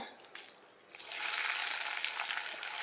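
Dried chillies, garlic, coconut pieces and onion hit hot coconut oil, starting with a quiet crackle before a loud, bright sizzle surges and keeps frying steadily close up.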